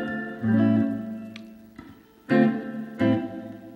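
Electric guitar played straight through an amplifier with an effects unit, a few sustained chords and notes ringing with chorus-like shimmer and reverb, moderate volume, no talking.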